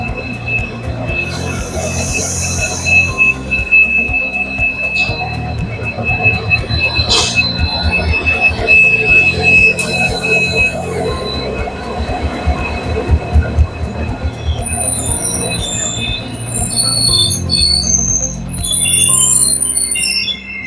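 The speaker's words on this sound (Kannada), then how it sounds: "ತಾಂಬರಂ ರಾಮೇಶ್ವರಂ ಎಕ್ಸ್ಪ್ರೆಸ್ ಈಗ ಅರೈವ್ ಆಗ್ತಿದೆ ಮನಮದುರೈ ಜಂಕ್ಷನ್ಗೆ" The Tambaram–Rameswaram Express pulling into Manamadurai Junction, a loud rumbling clatter of wheels over rail joints with high metallic squeals and a horn-like tone, heard nearby without voices.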